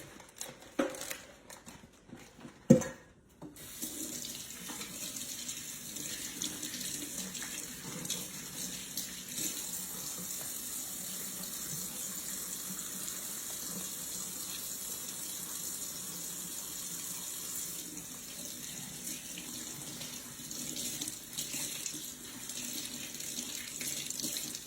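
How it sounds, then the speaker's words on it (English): A kitchen faucet runs steadily into a sink for over twenty seconds while hands are washed during a casserole cooking session, preceded by a few brief clatters and a sharp knock. "let me give my hands a wash."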